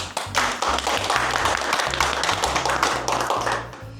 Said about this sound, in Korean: 이때 박수 한번 쳐야 됩니다